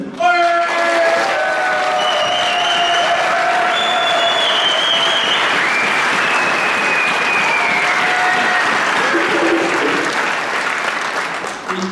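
Steady, loud applause from a gala concert audience for a youth showband, continuous clapping across the whole stretch with a few faint cheers and brief instrument tones mixed in.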